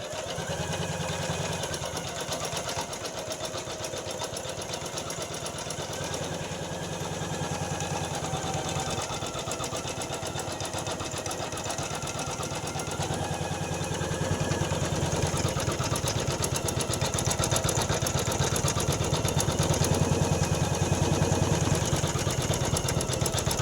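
Computerized embroidery machine stitching a design onto a blouse, a steady, continuous mechanical hum and rapid needle chatter running close and even throughout, growing slightly louder partway through, with no talking.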